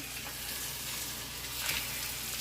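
Spanish omelette frying in a pan, a dense, continuous close sizzle with a slight swell near the end.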